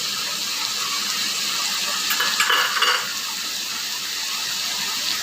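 Spices with chili powder, salt and coriander powder fry in a pot for foxtail millet veg biryani, a steady loud sizzle with a brief burst of stirring scrapes midway, no voices.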